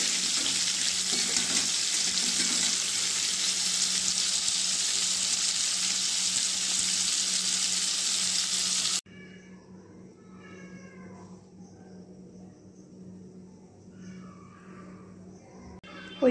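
Pointed gourd (potol) frying in hot oil gives a loud, steady close sizzle for several seconds, then drops off sharply to quiet background with faint clinks.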